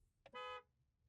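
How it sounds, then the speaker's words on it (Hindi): Horn of a VinFast VF7 car, one short, bright honk lasting about a quarter second, heard close and clear with a faint click just before it. "हॉर्न की जो साउंड है आप सुन सकते हैं"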